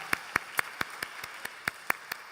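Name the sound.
congregation applause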